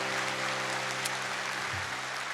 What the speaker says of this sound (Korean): 박수로 한번 축하해 주시기 바랍니다.